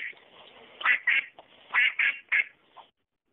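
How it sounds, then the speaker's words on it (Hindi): A recorded duck quacks, played back from a phone assistant: a burst of about six nasal, clipped quacks in two quick groups, clear and close, with no talking. "बत्तख की आवाज ऐसी होती है।"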